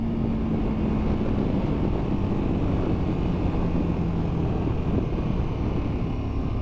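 A KTM 1290 Adventure motorcycle at speed gives a constant loud roar of wind rush and engine drone, with a faint steady engine tone running underneath throughout.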